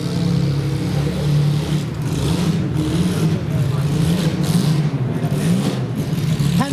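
Hansen Jaguar classic racing car approaches at a concours event with a low, throaty engine rumble building steadily beneath crowd noise and nearby talking.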